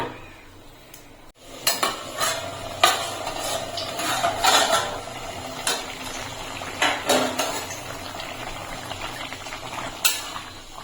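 A lid is set on a cooking pot of pumpkin stalks just after water has gone in, producing a series of sharp metallic clanks and rattles spaced irregularly over a low background bubbling, close and moderately loud.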